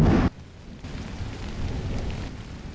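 A loud burst cuts off, then a steady wash of rain continues at moderate volume, with a low rumble underneath and no voices.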